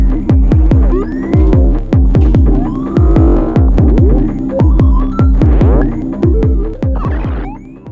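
Elektron Digitakt II beat run through its comb filter: loud, steady pulsing kicks and percussive hits in a fast regular rhythm, with metallic ringing resonant tones sweeping over the pattern, no voices.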